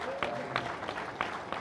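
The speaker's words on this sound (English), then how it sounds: "I think we have to have a huge round of applause for the legend that is Jacky Ickx" A stand audience at Goodwood Festival of Speed applauding Jacky Ickx, a short burst of clapping with a few sharper claps standing out over a murmur of voices.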